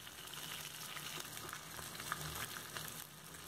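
Prawns frying in a kadai give off a steady, even sizzle with small crackles and pops, continuous and fairly quiet throughout.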